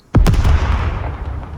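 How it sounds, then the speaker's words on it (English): An explosive arrow in the video game Scum detonates with a sudden booming blast, followed by a rumbling, crackling tail that fades slowly over a second or so. "Explosions in the distance."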